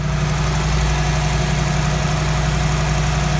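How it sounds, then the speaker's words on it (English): Ford Customline hot rod with a 302 Windsor V8 idles close and loud in a steady, even low rumble that holds unbroken throughout. "we've got the perfectly presented rat rod motor, which is a lovely 302 little Windsor"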